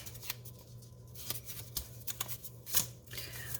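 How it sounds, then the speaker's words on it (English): Masking tape is pulled and pressed onto a paper mache armature up close, making soft crinkling rustles and sharp little tearing snaps spread unevenly over a few seconds. "I'm going to tape it there"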